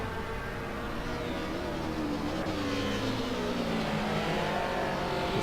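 Race cars run laps at Imola in the Assetto Corsa racing game, giving a steady, fairly faint engine drone that holds throughout with no clear pass-by peak.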